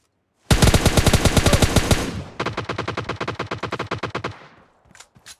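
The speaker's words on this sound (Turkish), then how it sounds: "Arkadan da biri sıkıyor çünkü." Close, loud automatic gunfire in PUBG Mobile Lite, one long rapid burst, a brief pause, then a second sustained burst, followed by a couple of faint distant shots; no talking.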